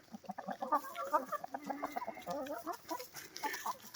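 A flock of chickens clucking busily and overlapping, close by in a coop, with the odd louder squawk among the chatter.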